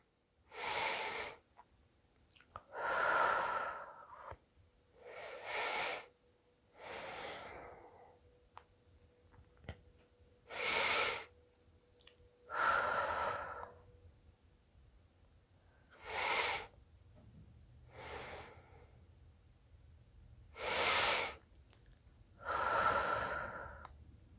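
Deep, slow breaths come during yoga poses done in bed, close and fairly loud, about ten drawn-out inhales and exhales spaced evenly with quiet gaps between them.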